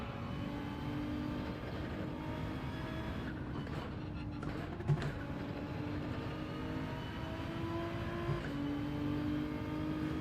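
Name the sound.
BMW racing car engine in a racing video game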